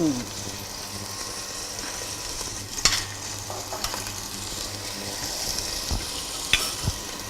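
Dry fish browning in a hot pan, a steady moderate sizzle running throughout with occasional scrapes and clinks of a utensil stirring.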